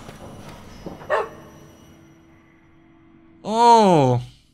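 A pet dog in an Alien Gigeresque video game gives a short, loud burst of barking and whining near the end, clear and close, after a quiet stretch with a faint earlier yip.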